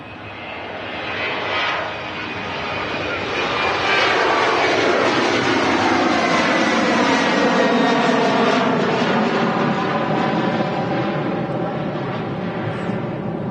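A Ryanair Boeing 737 MAX jet at Manchester Airport roars loudly and steadily, its engine whine building over a few seconds and holding at full strength with a sweeping, shifting pitch as it passes close by.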